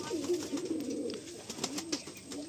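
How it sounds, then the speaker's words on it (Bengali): Soft, low coos of a female Madrasi or Andhra pigeon repeat in a steady murmuring rhythm, close by, with faint chirps from other birds in the background. "মানে মাদি পায়রা"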